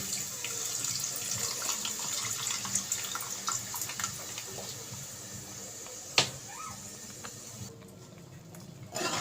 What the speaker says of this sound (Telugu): చింతపండు నీళ్ళు పోసుకుందామండి